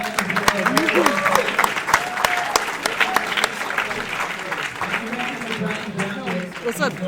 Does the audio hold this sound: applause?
yes